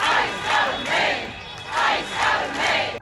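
A protest crowd in Maine chants in loud, rhythmic waves, each burst of many voices rising and falling in a steady repeated pattern with brief dips between phrases.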